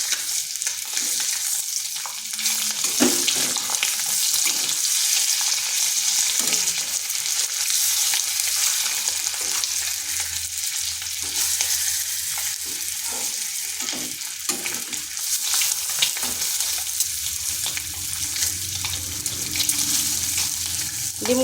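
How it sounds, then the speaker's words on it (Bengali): Eggs crackling and sizzling in hot oil in a pan, a loud continuous fry with occasional spatula scrapes and pops, no voices. "ডিমগুলো ভাজা হয়ে গেছে"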